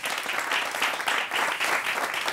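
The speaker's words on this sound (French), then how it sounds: "Merci de l'applaudir." Applause from a television studio audience welcoming a guest, a steady dense wash of clapping that stays loud and even throughout with no voices over it.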